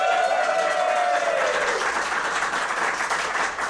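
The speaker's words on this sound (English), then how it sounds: "A round of applause" A live audience at a comedy podcast taping in Los Angeles bursts into sustained, loud applause, a dense wash of clapping that holds steady throughout.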